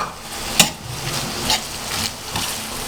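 Chicken roll filling with boiled carrots being stirred in a pan, soft scraping and rubbing strokes repeating at a slow uneven pace, close and moderately loud over a faint steady hiss, with no talk.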